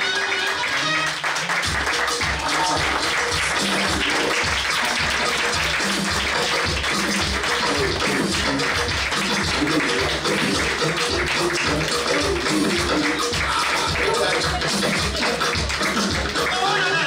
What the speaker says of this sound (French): Est-ce qu'on peut les applaudir encore très très fort s'il vous plaît?